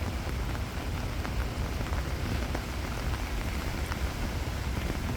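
Heavy rain pours down in Qatar, a loud, steady, unbroken hiss of drops striking surfaces close by, with no voices.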